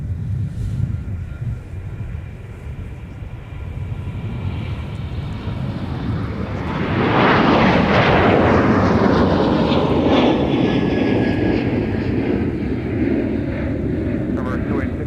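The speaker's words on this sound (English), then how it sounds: "we will get a little bit of a flyover from them as they pass by us to the west" An airliner passes overhead near Minneapolis–Saint Paul airport, its jet roar building from a distant whine to a loud, sustained rush that lingers as it moves off to the west.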